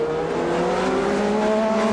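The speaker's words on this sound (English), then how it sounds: "Onto the front stretch swings the #7 Bentley being passed." Le Mans endurance racing, 2001: the #7 Bentley race car howls loudly along the front stretch, a steady close engine roar with a tonal whine that holds for the full two seconds, no voices over it.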